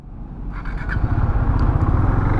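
A 390 motorcycle being ridden to a service showroom gives a steady engine drone that swells slightly as it gets going, close and continuous with no voices.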